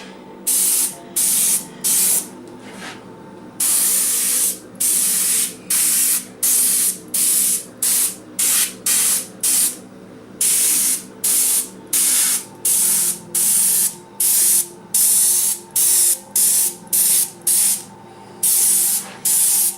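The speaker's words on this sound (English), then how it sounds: "Taking care of some of the overspray while I do this." An airbrush sprays paint onto a 3D suit in quick repeated bursts, loud and close, each hiss lasting under a second with brief gaps between, no talking.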